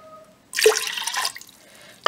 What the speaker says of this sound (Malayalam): ഇതിലേക്ക് നമുക്ക് ആവശ്യത്തിന് വെള്ളം ഇട്ട് കൊടുക്കുക.